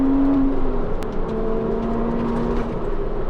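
A Porsche Cayman sports car powers hard through a corner, its engine a steady, loud, close drone that holds for a few seconds with only slight dips in pitch.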